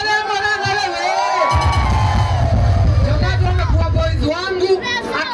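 A crowd at a live music event cheers, whoops and shouts loudly and without a break, while a voice speaks over the noise.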